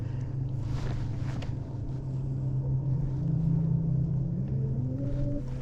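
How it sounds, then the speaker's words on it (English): A Newport NT30 electric outboard hums steadily on a Jonny Boats Bass 100 kayak, its pitch rising near the end as it speeds up, under wind buffeting the microphone, with no one talking. "Oh, forgot to turn the motor on."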